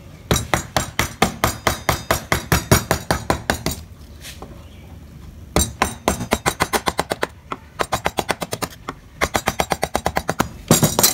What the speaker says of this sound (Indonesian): kita jorokkan ke dalam sama seperti tadi menggunakan pahat kol